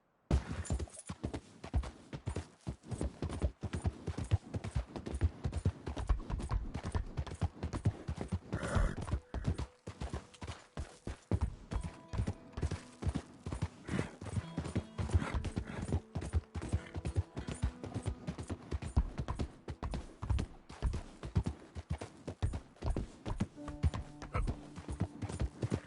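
A horse gallops in Red Dead Redemption 2, its hooves clopping in a fast, steady rhythm for the whole stretch, with a few louder bursts and no talking.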